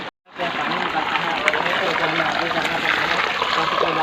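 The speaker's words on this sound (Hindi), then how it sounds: "संगवारी हो चट्टान के बीचों बीच बोर जैसे पानी निकल रहा है यहाँ पर" Water gushes out from between rocks on a hillside like a borewell, a steady loud rushing splash close by that runs on continuously after a brief gap.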